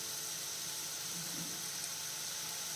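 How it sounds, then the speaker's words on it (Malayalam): Onions sautéing in oil in a pan over a medium flame give off a faint, steady sizzle that holds evenly throughout, with no talking. "നല്ല രീതിയിൽ നമ്മുടെ സവാള ഒന്ന് വഴണ്ട് കിട്ടാം"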